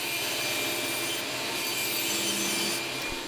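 Hand saw cutting through wood for a small craft-tool chest, a steady close rasping stroke that runs continuously and loud with no talk.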